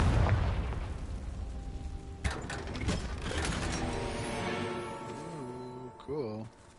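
A Confringo spell blast goes off in Hogwarts Legacy, a loud booming burst with crackling debris, followed by lingering magical tones and shimmering effects.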